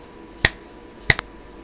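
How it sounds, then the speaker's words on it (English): Finger snaps beside an ESP32 microphone, servo and buzzer setup, two crisp isolated snaps followed by a quick third, close and sharp against a quiet room. "See, snap of the finger."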